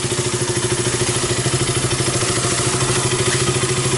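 A KTM RC 200 motorcycle engine, just repaired after a stalling problem caused by a leaking fuel pump hose, runs at a steady idle with an even, throbbing pulse close by and no talk.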